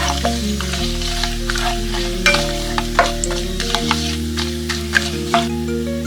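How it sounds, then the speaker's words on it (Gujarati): Whole spices, star anise, black pepper, a piece of cinnamon stick, peeled green cardamom and cumin seeds, crackle and sizzle in hot oil with a steady frying hiss and scattered sharp pops, alongside a low background hum. "બધા મસાલાને થોડા ચટકવા દઈએ."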